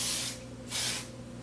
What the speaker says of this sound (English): this is a heat protectant mist, and it's for dry hair, which I love. So I'm just going to spray it